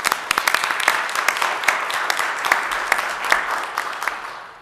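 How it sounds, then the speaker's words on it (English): Close, lively applause from a small crowd at a city council meeting, with crisp individual claps standing out over a steady patter. "Give him a round of applause."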